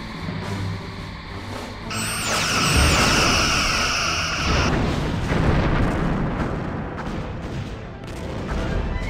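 Starship destroyed in Star Trek: Bridge Commander, a loud roaring blast with crackling debris and sweeping high tones that swells early and rumbles on through the whole stretch, with no voices.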